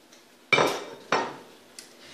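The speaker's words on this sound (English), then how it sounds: "And stir around." Oatmeal with chopped dates is stirred in a pot, giving two sharp spoon knocks against the rim and then a fainter tap, close by and alone.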